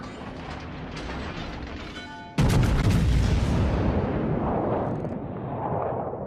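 A Montana battleship fires a main-gun broadside in a World of Warships battle: mechanical turret clicking first, then a sudden loud, booming salvo with a long rumbling tail that fades, all close with no talking.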